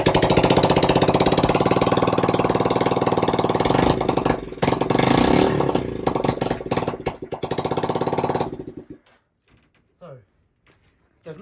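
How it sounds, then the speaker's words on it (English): A Yamaha YBR motorcycle engine with an EFI conversion and no exhaust fitted fires up and runs very loud and raw, stuttering and revving for about eight seconds before cutting out, leaving only faint scattered noises. "I'm going to give it a boot and see if it's going to fire up. It's going to be loud because there's no exhaust"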